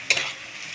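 Onions frying in a pan are stirred, giving one sharp scrape at the start and then a steady close sizzle for the rest of this short moment.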